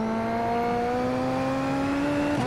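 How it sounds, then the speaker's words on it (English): Race car engine in the iRacing Super Formula sim at Okayama, a loud steady high-revving drone holding a near-constant pitch, with a quick blip at the end as the car downshifts into a corner. "Downshifting for a corner that I've never downshifted for."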